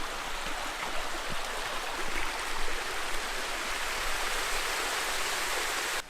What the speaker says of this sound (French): Cette belle cascade.